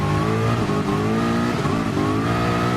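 Race car engine at full revs during a wet session at Suzuka, a loud, continuous high-pitched drone with steady harmonics and slight pitch swings as it holds throttle, with no voices.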